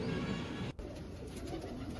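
Racing pigeons in a loft coo in soft, low, continuous murmurs close by, with a brief sharp click partway through and steady background hiss.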